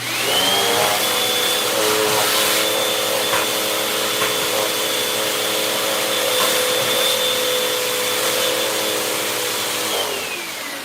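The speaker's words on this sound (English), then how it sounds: "Let me vacuum that out." A loud vacuum cleaner whines up to speed and runs steadily while sucking crumbs out of a household oven, a sustained close drone with a rising start and a falling wind-down at the end.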